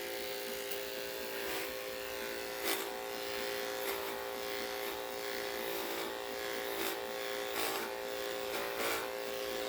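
Electric clippers buzz steadily and close by while grooming a Goldendoodle, a constant motor drone with small shifts as the blade moves through the coat.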